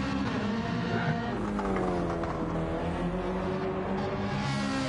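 A Subaru GT1-class race car in a racing game, lapping the Spa circuit on soft tyres, gives a loud, continuous engine drone with rising and falling revs and gear shifts, close and steady throughout.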